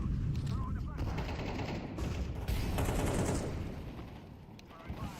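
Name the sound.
grenade and flashbang thrown in a video game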